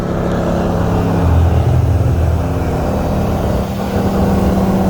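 A 2018 Mercedes C63 S AMG and a 2018 Audi RS3 accelerate hard from 40 mph in second gear, a loud, close, steady engine roar with rising drone and deep rumble throughout.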